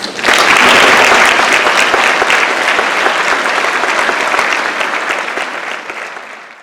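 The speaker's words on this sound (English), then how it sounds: "Let's give a round of applause." A gala audience at the 2019 Botham Jean Foundation event breaks into loud, sustained applause that fills the room, then slowly tapers off toward the end.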